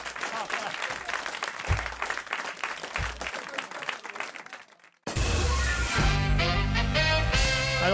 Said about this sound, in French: Et puis applaudissements.